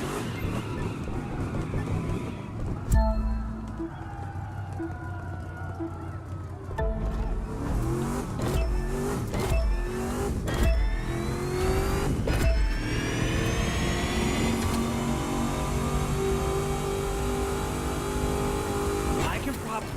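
A car in The Crew 2 racing game revs hard with a boost hit in fifth gear, engine pitch climbing through gear shifts with tyre skids, while a person talks over the steady engine roar.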